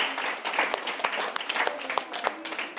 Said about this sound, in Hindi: जरा जोरदार ताली हो जाए